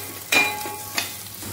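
Onions, green chilies and crushed ginger frying in a pan for upma, a quiet steady sizzle broken by two scraping stirs of a spoon.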